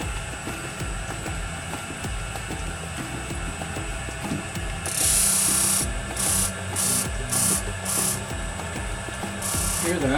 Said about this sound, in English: I'm now going to swap out onto a 240 disc because we don't want to have any internal chipping.